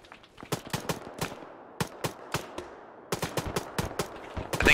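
Gunfire rattles through a military operation in a video game: sharp single shots and quick bursts crack out in clusters with short pauses between them, some close and loud, others more distant.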